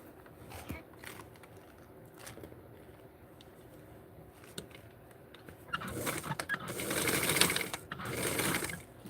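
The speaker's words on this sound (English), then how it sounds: "So all I have to do is just sew" A sewing machine stitching small doll clothes for a Francie McCall's 8531 pattern set, running in short soft bursts at first, then a louder sustained whirring run of rapid stitching near the end.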